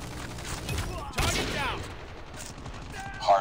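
Rapid bursts of gunfire in the mobile shooter Call of Duty Mobile during a hardpoint match, popping through game sounds with a voice talking over them and a sharper blast near the end.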